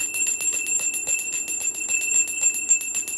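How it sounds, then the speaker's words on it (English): A hand bell rung over and over in a quick, steady rhythm, each strike leaving a bright, sustained metallic ring that blends into continuous jingling, with no voices. "I feel like ringing this bell."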